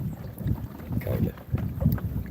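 Gusty wind buffets the microphone on a small fishing boat out on the water, with rumbling, uneven blasts and faint water movement underneath.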